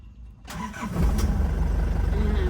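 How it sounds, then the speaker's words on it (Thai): A 1997 Isuzu Dragon Eye cab pickup with a 2800cc engine cranks briefly and catches, settling into a steady, throbbing idle close by, with no talk over it. "เดี๋ยวลองสตาร์ทให้ฟังนะคะ"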